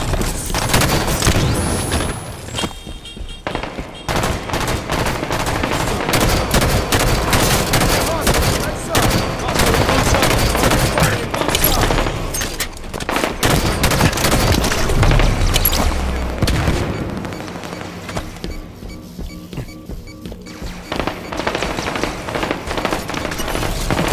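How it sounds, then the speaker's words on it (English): Halo 5: Guardians multiplayer battle with a grenade blast and steady gunfire, loud booms and rapid bursts of shots layered over continuous in-game combat noise, with brief voice callouts mixed in. "Throwing a grenade!"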